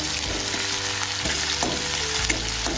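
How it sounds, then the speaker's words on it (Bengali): Chopped onions frying in hot oil in a kadai, a dense continuous sizzle close up, with a few spatula scrapes and knocks as they are stirred, no voices. "এখানে পেঁয়াজ কুচি দিয়ে দেব। ভালো করে নাড়িয়ে লাল করে ভেজে নেব।"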